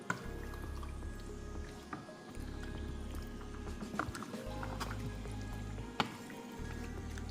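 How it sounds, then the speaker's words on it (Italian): Rigatoni pasta being stirred into a creamy pepper sauce with grated parmesan, giving soft wet squishing and dripping sounds with low clattering, close and steady, no talking. "E adesso non ci resta altro che aggiungere la pasta."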